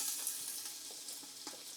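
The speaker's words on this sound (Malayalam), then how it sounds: "അപ്പോൾ നമുക്ക് ആദ്യം സവോള ചേർത്ത് കൊടുക്കാം." Sliced onion drops into hot olive oil for chicken mandi, producing a faint, even sizzle with a few soft crackles over a short stretch.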